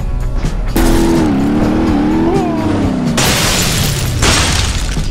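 A car engine keeps running loudly during a crash, with a sustained whining tone, tire-like squeal and crunching impact noise, followed by bursts of harsh noise.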